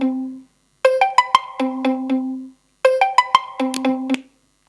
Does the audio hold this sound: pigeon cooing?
no